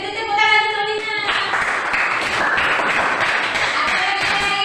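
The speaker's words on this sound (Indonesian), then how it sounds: "Beri tepuk tangan untuk Lina." A classroom breaks into applause for a student, a dense patter of many hands clapping steadily for several seconds after a brief voice at the start.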